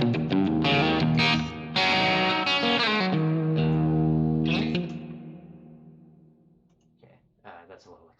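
Distorted electric guitar chords from a Line 6 HX Stomp ring out through heavy, washy reverb, a few strummed hits that trail off into a long echoing decay.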